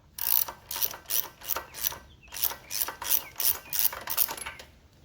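A hand socket wrench ratchets in a steady series of about a dozen short clicking strokes while a spark plug is loosened from a Generac power washer engine, close and clear with a brief pause midway.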